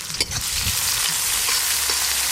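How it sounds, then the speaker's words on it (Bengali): Chopped onion, ginger, garlic and green chilli frying in hot oil give a continuous sizzle, with a few stirring scrapes and clinks near the start. "সব কিছু বেশ ভালো করে ভাজা ভাজা হয়ে গেল।"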